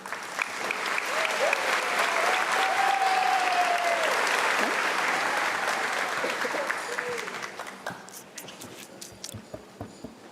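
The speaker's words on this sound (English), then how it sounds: "Can we get another big round of applause for me and my class officers, please?" A graduation ceremony crowd claps in a big round of applause for the class officers, loud and sustained, then thinning toward the end into a few scattered claps.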